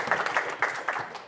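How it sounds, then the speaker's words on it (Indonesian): An audience applauds in a brief, moderately distant burst of clapping, with a little voice noise underneath. "boleh minta tepuk tangannya dong"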